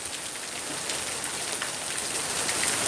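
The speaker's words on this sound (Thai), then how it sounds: "ที่เข้ามาชมฝนตกนะครับที่พัทยา กำลังรองน้ำฝนนะครับ" Heavy rain pours steadily in Pattaya, Thailand, heard from under the eaves of a house: a dense, even hiss of drops on surfaces that stays loud and constant, with no voices.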